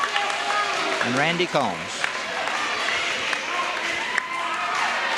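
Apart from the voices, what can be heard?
crowd applauding seniors at 1982 McDowell vs Letcher County game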